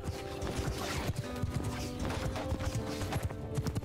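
Horse hooves clip-clop in rapid, steady rhythm as a mounted rider moves through a Mount & Blade II: Bannerlord battle, loud and close, with an occasional whinny and no talking.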